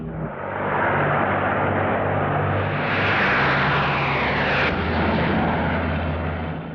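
Engines of a British WWII bomber drone loudly and continuously, a dense roar with steady low tones that swells slightly midway, close and unbroken throughout.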